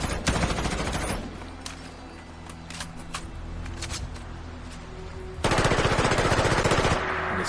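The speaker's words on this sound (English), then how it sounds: "This machine gun. This M16." An M16 machine gun fires in Fallout 4, with rapid automatic bursts of sharp shots at the start and end and a rumbling game ambience between them.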